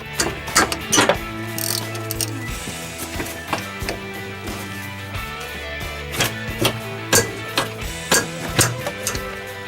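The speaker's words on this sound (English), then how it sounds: "first thing you're going to do to remove the calipers is loosen the retaining bolts" A ratchet fitted with a 14mm socket loosens the retaining bolts on a disc brake caliper, making close, distinct metallic clicking runs in several separate bursts over a steady background hum.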